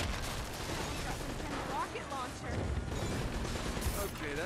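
An enemy turret in the Uncharted: Drake's Fortune video game fires in scattered bursts of gunfire and mechanical clatter. The shots sit within a busy mix of game noise at moderate loudness.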